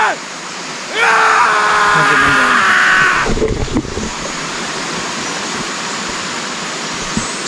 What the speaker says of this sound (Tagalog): Bro, sigaw ng tao yun